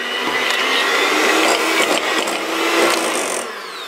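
An electric mixer creams butter for icing with a steady, loud motor whir and a grinding rattle of beaters against the bowl that shifts slightly in pitch throughout.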